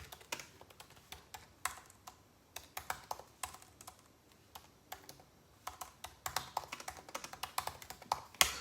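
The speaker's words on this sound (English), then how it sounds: "let me just tell this people to stop typing" Several people typing on computer keyboards in a quiet room, with irregular bursts of soft clicky keystrokes separated by short pauses. The tapping grows busier and denser toward the end.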